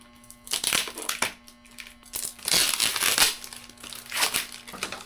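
Tape-wrapped parcel being cut and pulled open with a cutter indoors, a run of loud close crinkling and crumpling of packaging in uneven bursts, with brief quieter gaps between handling.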